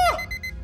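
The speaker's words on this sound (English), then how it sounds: "Dude, I just hate alarm clocks" An alarm clock rings in the video game Zompier, a short loud electronic beeping burst with a sliding tone at the start, heard alone.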